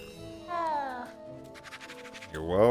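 A Hogwarts Legacy video game cat gives a wavering meow, followed by a brief scratchy rustle and then a second rising meow, close and moderately loud.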